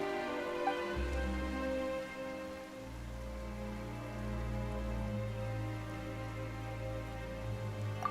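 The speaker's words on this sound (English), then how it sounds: "Why is it raining all of a sudden?" Rain starts falling in the video game Genshin Impact as a soft, steady patter under a sustained low musical drone and layered tones. No one speaks.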